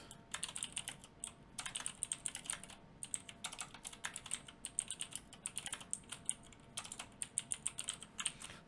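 Fast, steady typing on a computer keyboard, a close run of crisp key clicks in bursts separated by brief pauses.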